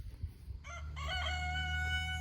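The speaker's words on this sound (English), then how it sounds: "Our crazy roosters are back there." A rooster crows once, a long harmonic call that rises and holds, close by over a low steady rumble.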